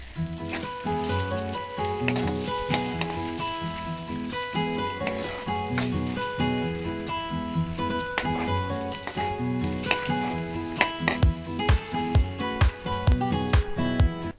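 Sliced onions fry in hot oil in a pan for a fish curry, with a continuous sizzle and repeated sharp stirring scrapes and clinks under steady tonal sounds, close and without talk.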